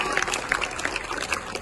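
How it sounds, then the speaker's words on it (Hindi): An audience claps steadily at a political gathering of the Muslim Pasmanda Mahaz, applause dense and sustained throughout with a murmur of voices underneath. "जोरदार एक बार शादाब अंसारी के लिए ताली बजाइए"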